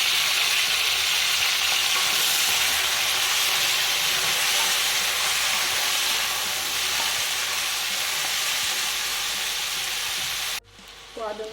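Onion and chopped tomato sizzle steadily in a hot pan for a matar paneer dish, a dense, even hiss that runs loud and close, then cuts off abruptly near the end with a few clinks.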